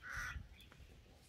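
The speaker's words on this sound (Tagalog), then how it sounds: "ay uwak." A crow gives one harsh, rasping caw outdoors on a mountainside near a hut. It is faint and somewhat distant, and fainter rustling follows. No one speaks.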